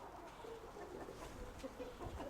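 Soft cooing and clucking of pigeons near a loft, faint and intermittent over low background noise.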